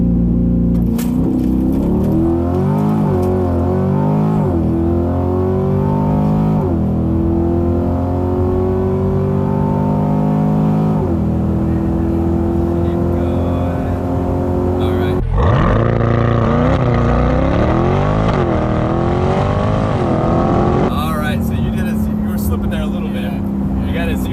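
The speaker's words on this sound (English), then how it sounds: "brake all the way down, gas all the way down, first quarter mile with the guest" A Chevrolet C8 Corvette revs and launches for a quarter-mile run, its engine climbing through repeated gear changes, loud and close throughout with no talking.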